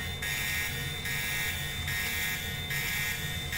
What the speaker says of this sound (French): Oh là là, il y a l'alarme.